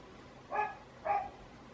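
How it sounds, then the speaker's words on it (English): Neighborhood dogs bark twice in quick succession from some distance away, two clear mid-pitched woofs separated by a brief pause, with no speech. "the neighbor dogs have to all go freaky out because my husband opened our garage"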